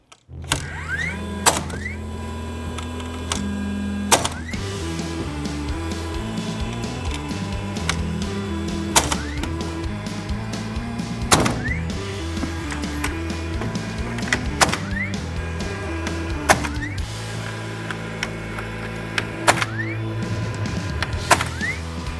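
A DeWALT framing nailer sinks nails into joist and stud framing, giving sharp, loud percussive bangs at irregular intervals of a few seconds over a steady tonal background.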